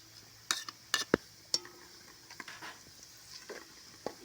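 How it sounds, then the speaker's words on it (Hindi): Onions being stirred in a frying pan while making kofta, with a few sharp scraping and clinking strokes spread across the stretch over a quiet, faint sizzle. "प्याज को गोल्डन ब्राउन होने तक भूनेंगे"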